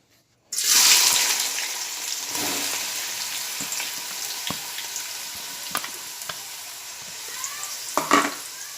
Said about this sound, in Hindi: तेल गरम हो गया है, अब मैं इसमें प्याज डालूँगी।